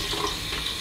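Hot tap water running into a sink before a straight razor shave, a steady close hiss and splash lasting under a second with no talking.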